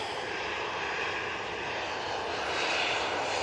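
TUI airliner jet engines roaring on the runway at Manchester Airport, a steady broadband roar that holds loud and even throughout with no voices.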